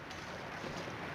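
Steady wind blows across an outdoor landscape in the survival game The Long Dark, a soft, even whooshing rush with no gusts or voices over the short stretch.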